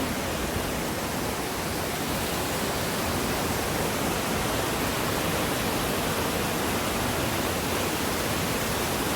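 Waterfall at Parsakhola in a loud, steady roar of falling water. The broadband rush stays constant and close throughout, with no voices.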